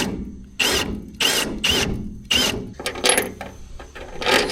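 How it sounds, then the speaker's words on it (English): A step drill bit bores holes out to 3/8 inch in the metal body of a 1977 Jeep CJ-7, in loud, close, repeated short bursts separated by pauses, ending in rougher grinding. "got the step bit, and we'll punch it out to 3/8"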